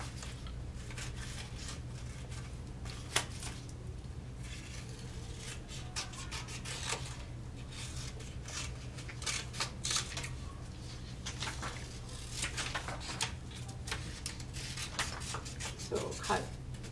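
Scissors cut through a folded paper hand shape in steady rasping, rubbing strokes with occasional sharper snips, continuous and close over a low background hum.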